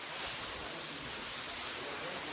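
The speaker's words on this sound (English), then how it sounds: "It's just such a beautiful waterfall." A waterfall gives a steady, even roar of rushing water that fills the whole moment without a break. No voices are heard over it.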